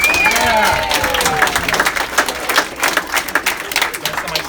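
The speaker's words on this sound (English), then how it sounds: "Let's give a round of applause to Delia DeReggie-Rickman" Audience applause at a congressional campaign office opening in Glen Cove, New York, a dense burst of clapping that thins into scattered claps over a few seconds, with some crowd noise mixed in.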